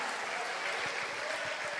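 A church congregation claps together in a steady, even wash of applause that holds for a couple of seconds, heard from a little distance at moderate volume.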